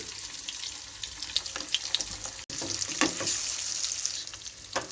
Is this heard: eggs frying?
yes